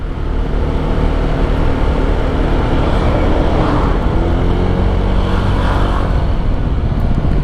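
Honda Vario 160 scooter with a 160 cc engine climbing a long uphill road through busy holiday traffic in Batu, a steady loud engine drone with rising revs blended with wind and surrounding traffic.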